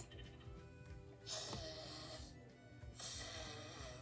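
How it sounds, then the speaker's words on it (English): A nose-blowing sound effect gives two long, loud, breathy honking blasts separated by a short pause, close and unaccompanied over a low background. "Someone's blowing their nose."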